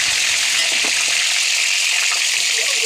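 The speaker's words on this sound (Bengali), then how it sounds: "এক পিঠ ভাজা হয়ে গেলে আরেক পিঠ উল্টে দিতে হবে।" Fish wrapped in Malabar spinach leaves fries in hot soybean oil in a wok, giving a loud, steady, hissing sizzle that holds constant throughout, with no talking.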